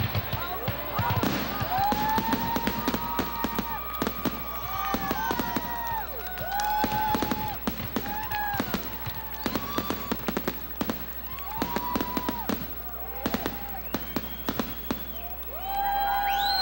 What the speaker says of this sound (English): a fireworks exhibit which topped 20 minutes